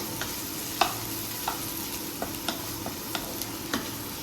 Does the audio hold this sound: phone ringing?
no